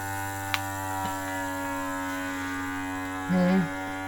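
A worn, aging vacuum sealer running with a steady electric motor hum and tonal drone, punctuated by a couple of faint clicks and a short louder buzz near the end as the bag seals; no talking.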